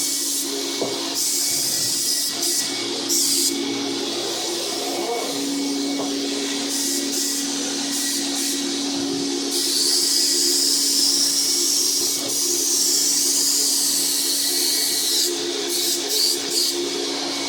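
An Apollo HVLP sprayer applies a satin finish to a distressed wooden piece, giving a steady airy hiss over a turbine drone that swells louder in the second half, with brief breaks and clatter between passes.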